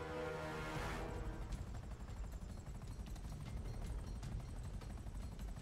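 A GTA 5 Online helicopter gives off a steady, dense rotor thrum and low engine rumble that continues throughout at a constant level, with no talking.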